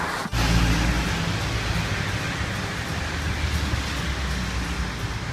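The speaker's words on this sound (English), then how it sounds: "it's still raining here in Burnley" Steady rain falling outdoors in Burnley, a dense even hiss close around, with a brief low thump near the start and no voices.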